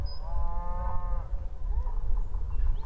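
A cow lets out a long, drawn-out moo among a herd of mama cows and calves on a cattle drive in the Utah high country at 7,000 feet, heard over low, rumbling outdoor background noise.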